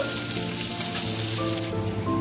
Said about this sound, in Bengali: পেঁয়াজটা একটু খুব ভালোভাবে ভেজে নেব।